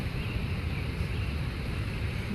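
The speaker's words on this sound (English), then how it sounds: "The dam, the water's just rushing through it." Steady, broad floodwater rushing through a dam roars without pause, a dense continuous wash of sound like a torrent pouring through a channel.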